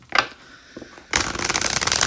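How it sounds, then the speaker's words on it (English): A deck of tarot cards is shuffled close up: a few soft flicks, a short pause, then a loud, dense riffling burst that runs to the end. "One more shuffle because I always do 3."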